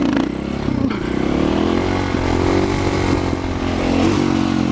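A motorcycle engine holds a steady, loud revving drone for the whole stretch as the rider works the throttle through a wheelie, the pitch dipping and rising slightly with small throttle changes and no voices.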